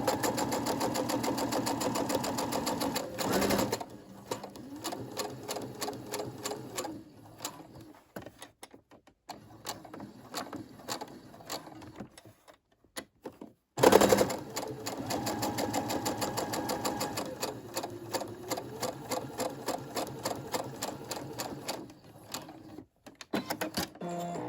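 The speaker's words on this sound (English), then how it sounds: "So what we're going to do is just do a straight stitch" A Brother SE600 sewing machine runs a continuous straight stitch without backstitching, a steady close mechanical whirr in two long runs separated by a brief pause, with no talking.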